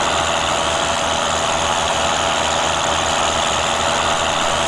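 John Deere tractor engine in the Farming Simulator 2013 video game, a loud, steady droning rumble that holds constant throughout with no talk over it.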